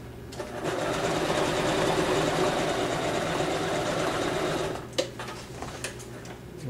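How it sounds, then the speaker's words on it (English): An electric sewing machine runs a long, fast, continuous seam through puppet fabric, a close, steady mechanical whirr that stops near five seconds, followed by a few brief clicks and handling noises. "Make sure that you don't sew underneath the other side when you're sewing it."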